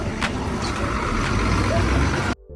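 At a busy Dhule bus stand, a bus engine rumbles close by under crowd noise and a voice for about two seconds, then it cuts off abruptly.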